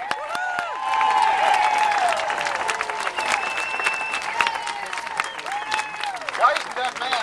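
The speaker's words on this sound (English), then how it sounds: "Another round of applause for Pastor Stephen Brody." An outdoor crowd in front of Dallas City Hall clapping for a pastor, steady mid-distance applause with scattered whistles and cheers, voices mixed in.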